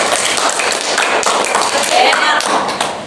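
Students in a classroom applaud with a busy wash of overlapping claps, loud and sustained throughout.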